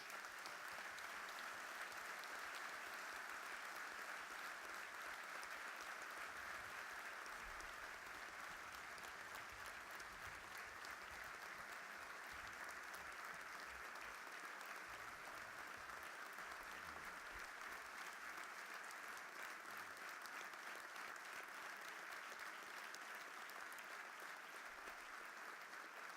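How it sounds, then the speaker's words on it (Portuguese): Hall full of party congress delegates at a Madeira social democrat gathering giving sustained, dense applause that carries on evenly for a long stretch without talk. "um grande aplauso pela memória de todos os sociais-democratas"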